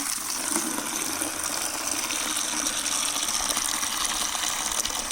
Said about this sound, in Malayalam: ഈ ബക്കറ്റിനകത്തേക്ക് നമ്മൾ കുറച്ച് വെള്ളം ഒഴിച്ചിട്ട് ഷാമ്പു ഒന്ന് മിക്സ് ആക്കുവാണ്